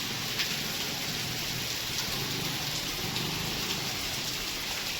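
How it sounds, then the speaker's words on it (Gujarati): Heavy rain pours down steadily in a village during a severe downpour, a loud, unbroken hiss with scattered drop impacts and no voices. "વરસાદ ચાલુ થઈ ગયો."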